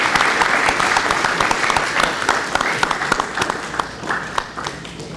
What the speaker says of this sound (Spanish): Fuerte las palmas, señoras y señores. Fuerte los aplausos.